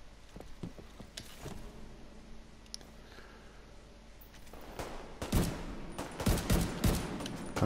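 Gunfire in Tom Clancy's The Division 2, sporadic single shots early giving way to dense, loud bursts of rapid fire in the later seconds, with no talking.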